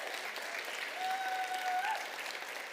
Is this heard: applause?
yes